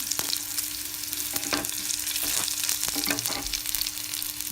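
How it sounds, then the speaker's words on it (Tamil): Three cloves of crushed garlic frying in oil with cumin for paruppu kulambu, a soft steady sizzle broken by several spatula knocks and scrapes against the pan. "அடுத்தது தட்டி வச்சுருக்கிற பூண்டு ஒரு 3 பல், இது நல்லா கொஞ்சம் ஃப்ரை ஆகிடுச்சுங்க"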